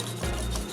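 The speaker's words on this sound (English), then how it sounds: "Whisk together." Balsamic marinade with Worcestershire sauce being whisked, a brief close scraping, rubbing sound.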